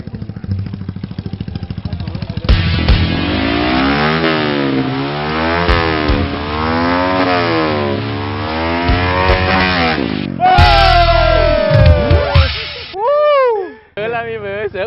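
A motorcycle engine revs hard in first gear as it pulls away, its pitch climbing and falling in repeated surges up close. A voice seems to come in briefly near the end.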